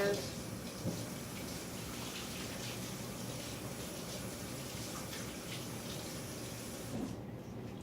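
Running water from a tap pours steadily while hands are washed after buttering a baking pan, a continuous near splashing that cuts off in the final second.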